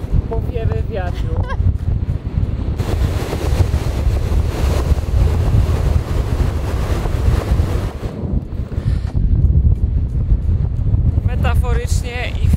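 Strong wind on the Baltic Sea coast at Jurata, roaring and buffeting the microphone loudly and continuously alongside breaking surf, with brief faint high chirps near the start and end.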